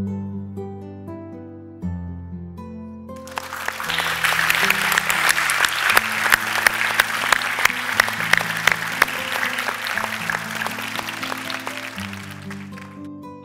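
Audience at a comedy show standing and applauding a performance, loud sustained clapping that swells in after a few seconds of music and carries on steadily under a musical backing.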